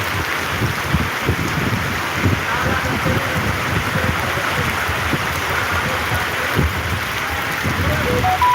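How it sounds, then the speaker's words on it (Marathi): Heavy unseasonal rain with stormy wind pours steadily onto farm fields near Golegaon in Sillod taluka, a dense continuous hiss with scattered close drops and no gaps, loud throughout. "सिल्लोड तालुक्यात हवामान विभागाने सांगितल्याप्रमाणे अवखळी पावसाची थैमान"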